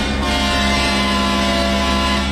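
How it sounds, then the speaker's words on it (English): A truck air horn blares in one long sustained blast, steady and loud throughout, over engine and road rumble on a highway beside the water. "Give you some more air horn here in a couple seconds"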